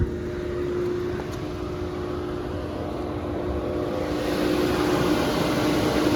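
A Volkswagen Touran with a 1.6 MPI petrol engine idling steadily, a smooth even hum with a faint constant tone held throughout, no voices over it.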